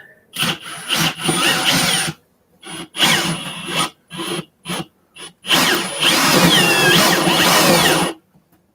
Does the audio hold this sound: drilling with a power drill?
yes